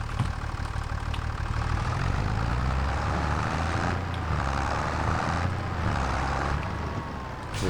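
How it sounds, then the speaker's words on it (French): In Farming Simulator 25, a tractor engine idles with a steady, continuous low rumble and mechanical hum, close and constant with no talk over it. "Voilà, le tracteur."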